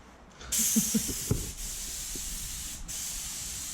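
Spray paint hisses steadily onto a car's hood shaker scoop, a long continuous bright spray burst starting abruptly and running on with slight dips, close to the microphone and without talk.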